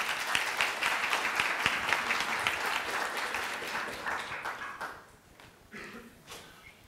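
Audience applause at a law school event, a full room of hands clapping steadily for several seconds before thinning into scattered claps and fading out.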